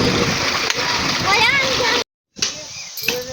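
An electric water pump motor runs on a Punjabi farm as water gushes and splashes out steadily, loud and close, with a brief dropout partway through.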